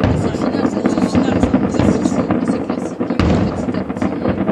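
Fireworks display in Carcassonne, a dense continuous barrage of crackling bursts and booms, loud and close, with no pauses.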